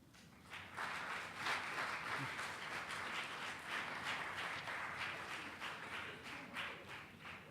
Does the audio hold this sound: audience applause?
yes